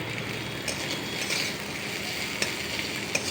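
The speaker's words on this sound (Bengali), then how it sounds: "পেঁয়াজ দিলাম" Onion frying in a pan, a steady soft sizzle with a few sharp clicks of a utensil against the pan near the end.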